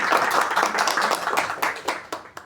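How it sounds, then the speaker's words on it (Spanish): Audience at a Paraguayan book launch and honours ceremony claps steadily for a young writer, a dense patter of hands that thins toward the end with a few louder individual claps. "le vamos a dar un fuerte aplauso, por favor."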